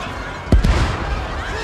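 A short, sharp blast followed by a brief rumbling echo, set against a dense wash of steady background noise.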